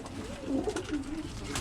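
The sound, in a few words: Birmingham Roller pigeons cooing in nest boxes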